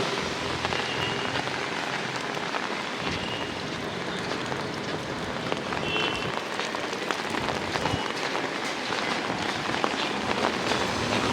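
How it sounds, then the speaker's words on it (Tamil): Heavy rain pours steadily in a Kerala village in Calicut, with floodwater flowing along the ground, making a dense, continuous hiss and patter throughout without pause. "மழை பெய்கிற மாதிரி தான் தெரியுது, ஆனால் வெள்ளம் தேங்கி இருக்கோம் பாருங்க, ஓடுது எல்லாம்"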